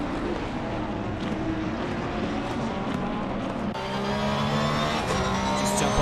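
A Porsche race car laps Zolder circuit under lights, its engine holding a steady, droning note that rises in pitch as it accelerates, loud and continuous with no voices.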